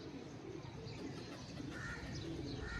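Soft, low pigeon cooing outdoors during a pigeon flying competition, over steady background noise, with faint bird chirps here and there; no talking.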